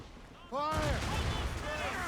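Ship cannons firing in Assassin's Creed Rogue during a naval battle, a heavy booming volley that erupts suddenly and rolls on under shouting crew voices.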